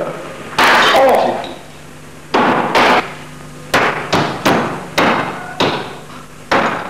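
Hammer blows strike during a laboratory demonstration at a liquefied natural gas plant: a series of loud, sharp metallic knocks, about eight, the later ones in quick succession with short ringing decays.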